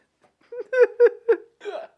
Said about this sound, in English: You fucking like hiccuped and burped at the same time